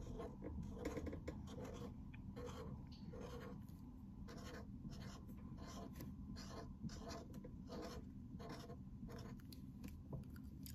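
A marker colors in a drawing on paper, repeated quick scratchy back-and-forth strokes in steady bursts, close and quiet, with no speech over it.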